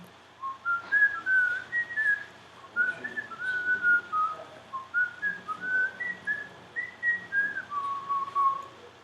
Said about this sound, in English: I'll whistle a tune for our video watchers on YouTube